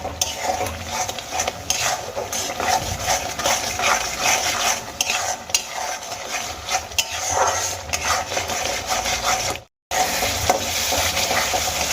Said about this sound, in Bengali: এবার খুব ভালো করে মশলাগুলোকে আমি কষিয়ে নেব